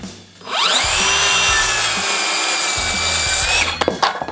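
A WORX 20V ExacTrack saw cuts through a 2x4 board. The motor spins up quickly to a loud, steady whine that holds for about three seconds, then winds down with a few clattering knocks at the end.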